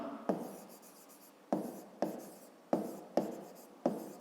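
A pen writes a math solution by hand on paper, giving about seven short scratching strokes with sharp onsets and brief pauses between them, close and quiet with no talk.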